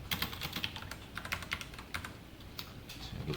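Python code is typed on a computer keyboard as a close, quick, irregular patter of key clicks in short bursts, with brief pauses between them.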